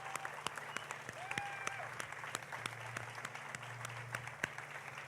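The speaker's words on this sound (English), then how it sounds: "please give these people a round of applause" An audience at a downtown memorial event gives a round of applause, heard as a faint, distant patter of scattered claps that continues steadily throughout.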